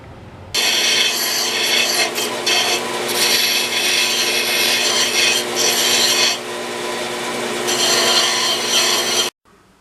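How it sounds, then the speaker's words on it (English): A belt sander grinds the edges off a metal motorcycle windscreen bracket, a loud, close, abrasive rasp that runs steadily for several seconds, its pitch and pressure shifting as the piece is worked, then stops abruptly. "I want to radius all this stuff off, clean it up on the belt sander"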